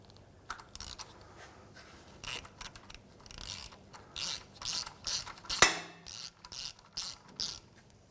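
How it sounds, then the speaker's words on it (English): A hand ratchet with a 17mm socket clicks in short, quick bursts while cracking loose the oil drain bolt on a 2007-2013 Mitsubishi Outlander, the pawl chattering up close with pauses and one sharp knock between strokes. "Just want to go ahead and crack that bolt loose."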